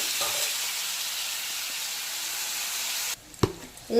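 Mutton sizzles steadily in a hot pan after turmeric is added, a dense continuous frying hiss that drops away near the end, followed by a few sharp clanks of stirring.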